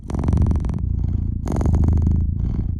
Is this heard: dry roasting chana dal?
no